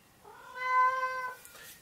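A house cat gives a single drawn-out meow, clear and fairly close, rising and then tailing off, with no talking over it.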